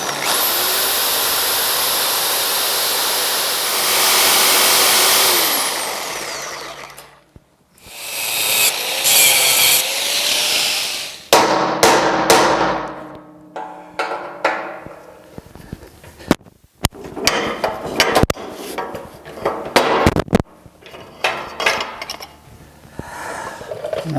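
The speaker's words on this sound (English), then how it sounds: "So it takes some fiddly grinding to get this out of here" Power grinder cutting off welded metal brackets on a GMC motorhome, loud whining bursts that rise and fall in pitch, followed by scattered scraping and clanking, with brief pauses between passes.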